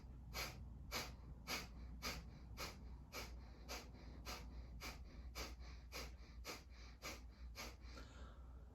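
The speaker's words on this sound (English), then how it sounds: "you're breathing in through the nostril and out through the nostril with the snap back of the belly" Rapid nostril breathing from a breathing exercise, each forceful exhale paired with a snap back of the belly: about sixteen sharp, evenly spaced huffs, roughly two per second, close and steady, with no talking.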